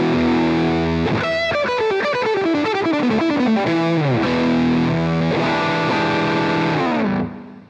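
Electric guitar played through a Walrus Audio EONS fuzz pedal, a thick distorted tone with fast descending and ascending note runs and sustained chords, steady and loud before ringing out at the end.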